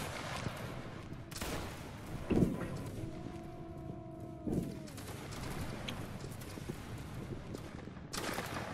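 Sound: musket line firing volley in Waterloo video game

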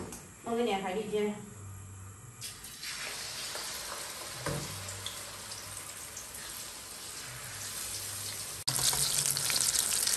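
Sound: oyster omelette frying in a pan

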